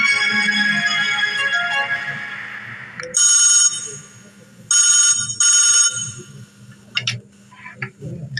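A telephone in a drama scene rings in repeated bright electronic bursts, several evenly spaced trills, with softer background room sound between them.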